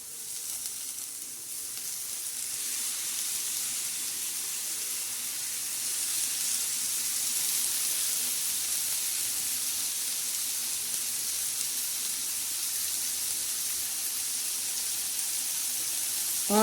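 Ambadi greens hit a hot tempering of garlic, green chilli and cumin in a pan. A steady close sizzling hiss thickens slightly after a few seconds and runs on unbroken, ending with a brief clatter.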